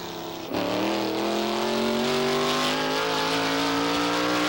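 NASCAR Winston Modified Tour race car number 4, driven by Satch Worley on a qualifying lap at Star Speedway in 1990, bursts in with a loud, close engine roar that climbs steadily in pitch as it accelerates.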